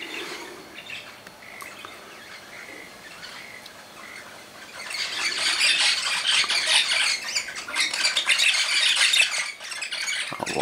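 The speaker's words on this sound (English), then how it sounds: "here are the birds now" Wild birds at a feeder burst into a loud, dense chorus of squawks and chirps, rising sharply after a quieter stretch of scattered calls and continuing close by to the end.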